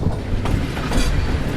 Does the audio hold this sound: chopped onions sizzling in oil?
no